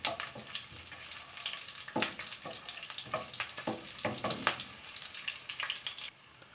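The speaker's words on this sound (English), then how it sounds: "along with our spices, we can also add our green chili and curry leaves. Just saute for a while." Spices, green chili and curry leaves sautéing in hot oil for a vegetable kurma, a crackling close sizzle broken by repeated bursts of spatula scrapes and pops, with no one talking.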